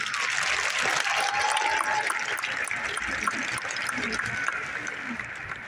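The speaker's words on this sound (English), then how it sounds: "Please give all our special guests a round of applause." Audience applause for special guests at a Deer Valley High School ceremony, a steady dense wash of clapping that holds loud throughout and fades slightly at the end.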